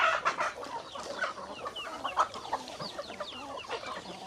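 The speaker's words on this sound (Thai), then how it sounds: "ไก่บินขึ้นหลังครับ" Chickens clucking at a farm while pigs are fed, with one bird flying up onto a pig's back; repeated soft clucks and short chirpy calls sound close and fairly quiet, with no talk.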